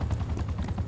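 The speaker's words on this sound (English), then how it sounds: "I got a helicopter." A helicopter in the Call of Duty: Black Ops Cold War video game gives a brief burst of low, throbbing rotor thump, loud and steady, with no talk over it.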